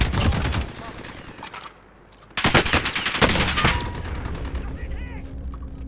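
Loud bursts of light machine gun fire in a first-person shooter video game, rapid rattling volleys with a brief pause and then a sustained barrage, sounding close and dominant.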